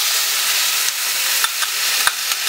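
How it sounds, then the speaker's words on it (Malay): Onions sauté in hot oil in a pan for Perlis-style nasi ganja, a steady close sizzle with occasional small pops and crackles. "Saya tumiskan sini dulu."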